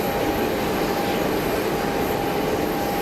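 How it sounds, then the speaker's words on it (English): An Etihad Boeing 787 Dreamliner at Geneva Airport, a steady broadband jet roar with a faint whine, heard from a distance with no talking. "Etihad 787 Dreamliner, of course."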